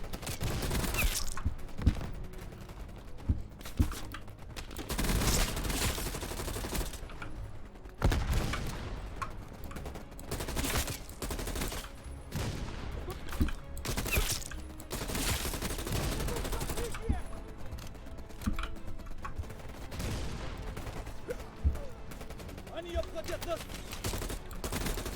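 Dense gunfire rips through a Wolfenstein campaign battle, with rapid bursts and single shots that are loud and continuous, while someone talks over the shooting.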